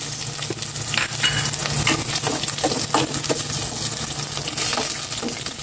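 Onions sauté in a hot pan for chop suey, giving a steady, close sizzle and frying crackle with occasional stirring scrapes throughout.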